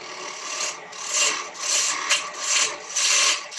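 A quarter-inch ball gouge carving wood, heard as repeated rhythmic rasping strokes about every half second, close and moderately loud, with no voices.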